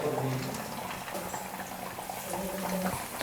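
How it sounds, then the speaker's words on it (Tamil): Semolina-potato vada dough frying in hot oil over a medium-high flame, a steady close bubbling sizzle with soft crackles that holds at an even level throughout. "இப்போ நான் வந்து தட்டி வச்சுருக்கிற மாவை எண்ணெயில் போட்டுக்கிறேன்."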